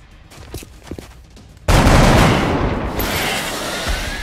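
Soldier gunfire in the XCOM strategy game: faint shuffling at first, then a sudden loud burst of shots with a booming, sustained rumble that gradually fades, with no speech.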